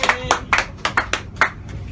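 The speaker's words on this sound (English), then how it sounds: "You're more than welcome to give me a round of applause." A small audience gives a brief, sparse round of applause: about eight separate, fairly close hand claps in an uneven rhythm, with no talking.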